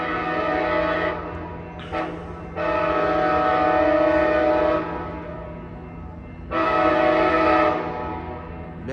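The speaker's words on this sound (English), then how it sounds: "Man, that Siemens Charger is loud." Amtrak San Joaquin train led by a Siemens SC44 Charger locomotive arriving at Oakland's Jack London Square station, its loud horn sounding in long blasts over steady rumbling engine noise.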